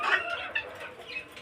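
A rooster, caged during a fight between a Kalim and a Brahma cock, clucks in a quick, agitated run of close, fairly loud calls with no talk over them.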